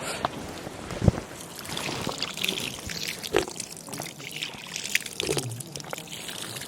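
Water from a full pipe pours into an irrigation channel watering flowers, a steady close rushing and trickling flow with occasional splashy surges throughout.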